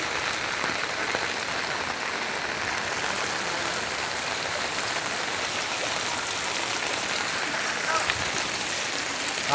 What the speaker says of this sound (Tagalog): Isang oras pa lang ang ulan, ano? Wala, isang oras pa lang eh. Pero sobrang lakas.